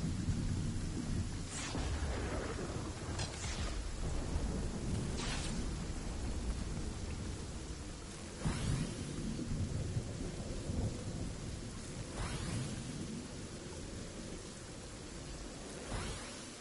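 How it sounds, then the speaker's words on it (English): A thunderstorm brings steady heavy rain, broken by several sharp thunder cracks at irregular intervals, close and loud with no talking. "The storm is taking it too."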